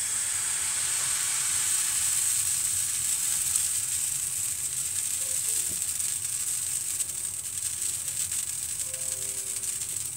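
Crêpe batter sizzles in an oiled pan with a bright, steady, hissing fry that holds evenly for about ten seconds, with faint clinks in the background and no voices.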